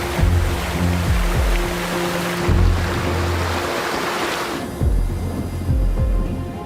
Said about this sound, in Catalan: El Francolí es desborda.